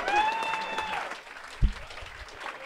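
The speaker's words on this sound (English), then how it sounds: "Can we applaud this honesty?" Audience at a convention panel claps and cheers in a burst of applause, loud at first and fading after about a second into crowd murmur, with a low thump near the end.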